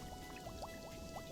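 Tomato mixture poured over cabbage rolls in a skillet in a cooking video game. Brief, quiet bubbly glugs sound over a steady soft musical tone.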